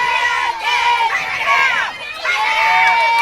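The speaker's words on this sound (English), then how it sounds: "And the crowd's getting into it." Crowd cheers and shouts at a women's football conference championship game, Mile High Blaze against St. Louis, a sustained roar of many voices that swells and holds loud for the whole stretch.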